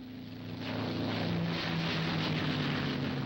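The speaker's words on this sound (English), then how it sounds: "The 109 had a water-cooled Daimler-Benz inline engine." A Messerschmitt Bf 109 fighter with a water-cooled Daimler-Benz inline engine drones steadily, swelling in after a brief quiet start and holding an even, moderately loud hum with a faint airy rush.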